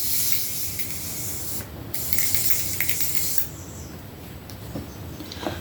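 Makeup setting spray hisses onto a face in fine misty bursts, two long sprays with a short gap between them, close and fairly loud, followed by soft rubbing and faint handling noises.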